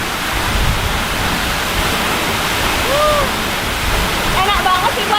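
Jagasatru waterfall in Bali, Karangasem, pours in a steady, close, broadband rush of falling water that fills the whole clip, with a couple of faint bird chirps rising above it.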